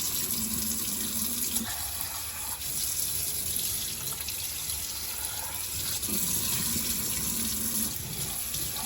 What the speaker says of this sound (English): And then for this one right here, just rinse it out very easily.